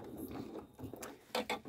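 Janome sewing machine stitching during free-motion embroidery, quiet mechanical whirring and clicking in short bursts that speed up and stop, with louder rattling spurts near the end.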